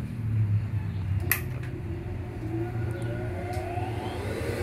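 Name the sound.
industrial sewing machine motor starting up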